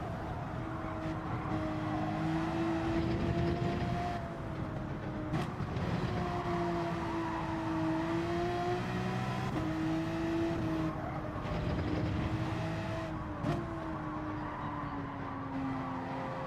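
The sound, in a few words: racing car engine in video game Gran Turismo 7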